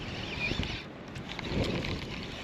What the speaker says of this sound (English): You guys are probably getting absolutely fucked by wind right now.